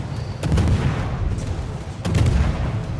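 Naval guns of the destroyer Småland firing in a warship video game, two heavy booming salvos about one and a half seconds apart, loud and rumbling, each trailing into a low roar.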